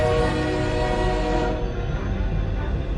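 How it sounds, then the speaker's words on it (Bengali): A metro train pulls into a station late at night, a loud steady rumble with a horn-like tone that eases slightly as it draws in. "ওই তো ট্রেন ঢুকছে।"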